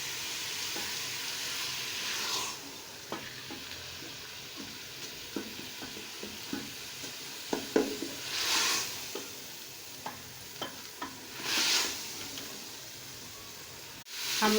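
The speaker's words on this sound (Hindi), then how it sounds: "हमने इसे 3 से 4 मिनट फ्राई किया है चिकन को" Chicken pieces sizzling in a pan with tomato and onion for a chicken korma, stirred every so often with soft scraping taps over a steady frying hiss, plus two louder bursts of sizzle; no talking.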